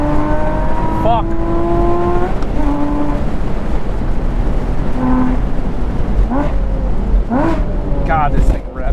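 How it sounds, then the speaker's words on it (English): Porsche Boxster Spider engine revving hard through gears, loud and close, with rising and falling pitch sweeps at each shift and a brief lift near the end, no talking. "this thing revs so nice"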